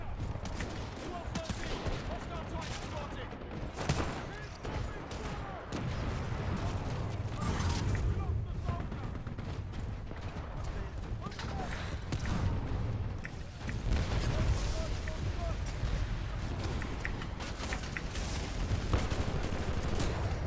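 Shotgun fire and mechanical clatter in Titanfall 2, a busy, continuous mix of shots and clanking at moderate level with someone talking over it.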